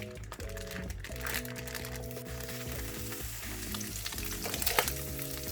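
Pork shoulder, about 1.5 pounds, pan fries in oil with a continuous crackling sizzle and scattered pops, fairly quiet and close.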